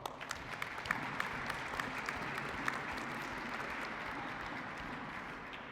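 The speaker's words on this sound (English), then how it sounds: "So let's give him a round of applause" A round of applause for the recreational facilities manager at the New Hope Ice Arena ribbon cutting; a fairly distant crowd claps steadily, a few sharper claps popping out of the soft, even wash.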